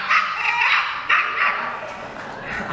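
A voice actor imitates Buster the dog with a run of yipping, whimpering barks, about three bursts over a few seconds, close and clear.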